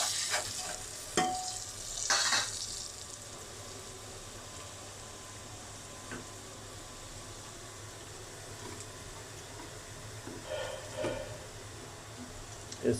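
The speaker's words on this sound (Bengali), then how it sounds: "তারপরে একটু নেড়ে দেবো।" Chicken gizzards and livers frying in a pan, with a soft steady sizzle and a few scraping stirs early on, then scattered light clinks, close but quiet and without talk.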